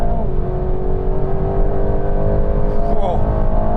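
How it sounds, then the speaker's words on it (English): A rear-wheel-drive Aston Martin Vantage launches hard in a drag run, its engine roaring loud and close as pitch climbs steadily through the gears, with a brief upshift near the end. "Aston Martin. Not a bad launch, come on."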